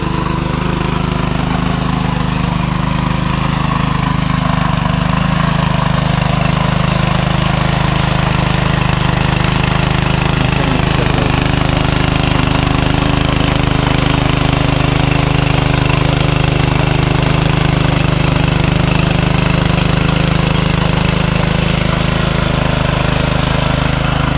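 Engine-powered puddling machine churning mud in a flooded Konkan rice paddy during planting, a steady loud mid-pitched engine drone running continuously throughout without pause.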